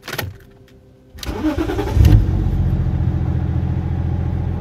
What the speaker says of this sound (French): Je vais démarrer l'auto.